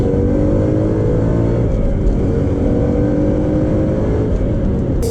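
A 670 HP supercharged Ford Mustang GT accelerates hard, its engine roaring loud and steady from close by with no break across the pull.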